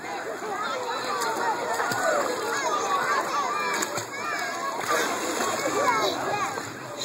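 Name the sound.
child swimming and splashing in water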